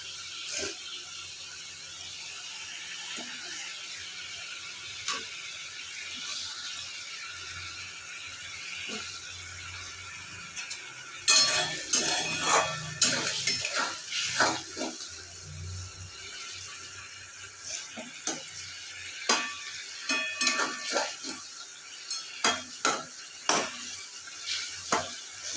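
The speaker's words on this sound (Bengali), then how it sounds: "এবার এই মাছগুলি, ভাজা মাছগুলি দিয়ে দিচ্ছি।" Fried tilapia pieces added to a simmering fish curry in a pan, a quiet bubbling simmer followed by clattering of utensil against pan and a louder burst of sizzling, then intermittent scraping and stirring clinks up close.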